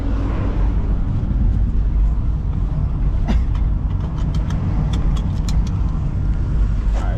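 A BMW E36 car on a test drive, with a steady, loud engine drone and road rumble heard from inside the cabin and a few brief clicks near the end.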